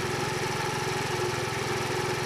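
A 50cc Euro 4 or Euro 5 scooter engine runs at a steady idle, close and continuous, with an even buzzing rhythm and no starting burst.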